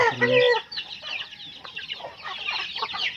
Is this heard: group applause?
no